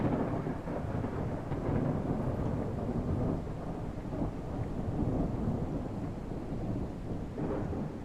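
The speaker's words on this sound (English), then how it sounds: "Oh, we got lightning strikes in the background." Thunder rumbles in the video game Airport Renovator, a deep continuous roll with rain-like hiss that stays loud and even for about eight seconds, with no talk over it.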